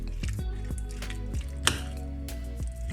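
Spoon mixing dried dill into a soft filling for a savoury roulade, a series of quiet wet squelches and light taps against the bowl at an irregular pace, close and without speech.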